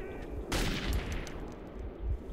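Gunfire in the video game Metro 2033: a short burst of rapid shots, loud and close, clattering over a noisy game backdrop with a faint voice present.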